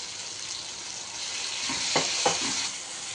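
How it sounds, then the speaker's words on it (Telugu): Tomatoes and onions fry in a pan for tomato curd chutney, a constant close sizzle with a few brief stirring scrapes and knocks toward the end, no voices. "తర్వాత టమాటోస్ వేసుకోవాలి. ఇది ఒక 10 minutes ఫ్రై చేసుకోవాలి."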